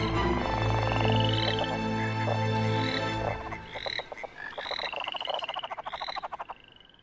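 A chorus of frogs croaks loudly and densely, with a steady throbbing layer at first and then sharper, separate pulsing croaks near the end, and no voices.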